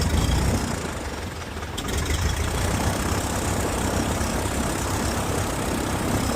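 A 1950s Piper TriPacer aircraft engine idling low and rough during a restart on the ground, a steady broadband rumble that dips briefly early on before settling into an even, continuous drone.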